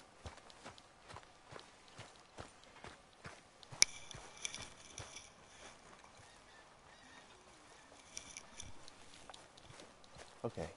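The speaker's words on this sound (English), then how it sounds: "Okay, so my lovely horse." Horse hooves clip-clopping steadily in Red Dead Redemption 2, a regular walking rhythm of light thuds heard fairly quietly over faint ambient background.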